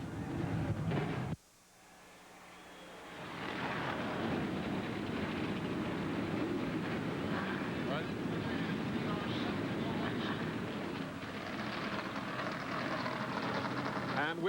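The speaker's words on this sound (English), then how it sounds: "Gentlemen, start your engines." NASCAR race car engines firing up at New Hampshire International Speedway for a 2000 Busch Series race: after a brief lull, a massed field of V8 engines swells into a loud, sustained roar that holds steady to the end.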